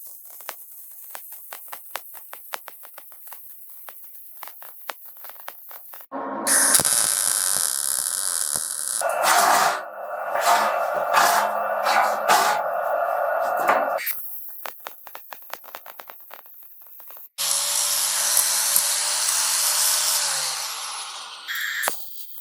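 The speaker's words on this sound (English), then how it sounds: "now we're going to weld her out." Welding on a trailer tongue laid on a weld table for a BBQ smoker trailer build: steady crackling, hissing bursts that run for several seconds at a time, separated by quieter pauses with faint clicks.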